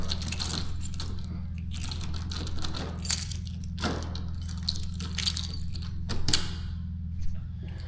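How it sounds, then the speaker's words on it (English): A key turns in a door lock at lodgings in Bologna, Italy, unlocking and relocking it with a string of close metallic clicks and rattles over a low steady hum. "the key opens the door and also locks it"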